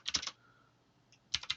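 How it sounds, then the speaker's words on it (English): Quick bursts of clicking keystrokes on a computer keyboard, two short clusters of taps separated by a near-silent pause. "That was me typing."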